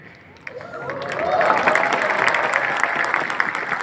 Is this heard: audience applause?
yes